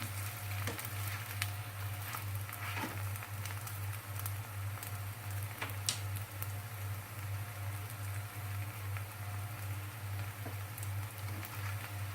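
Stuffed vegetable msemmen flatbreads fry in a pan, a steady close sizzle with soft crackles and a low constant hum underneath, no talking.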